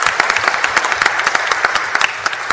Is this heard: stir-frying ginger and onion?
no